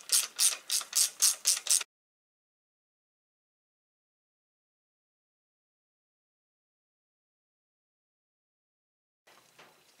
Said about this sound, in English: So I'm just going to tighten up these bolts.